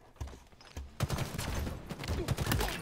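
Rapid gunfire in the video game Halo Infinite, a dense fusillade of sharp cracking shots in quick bursts, loud and close, growing busier after the first second.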